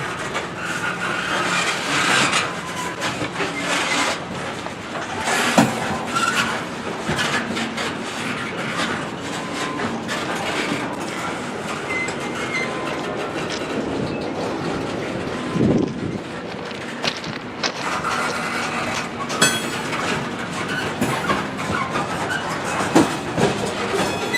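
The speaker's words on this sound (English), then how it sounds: "the coal train was allowed to get back underway" Coal train getting back underway on the rails: a long continuous rumble of rolling railcars with scattered clanks, squeals and clickety-clack from wheels over joints, loud and close throughout.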